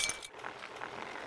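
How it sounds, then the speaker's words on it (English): A short burst of breaking glass in the video game Happy Wheels, a bright crackling shatter at the start that fades within a fraction of a second, followed by soft low game noise. "Yeah, the glass broke."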